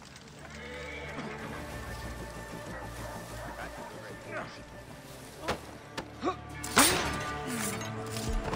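A horse in the Assassin's Creed Origins video game whinnies while hooves clop, with loud thuds and impacts near the end and game voices speaking over the sounds.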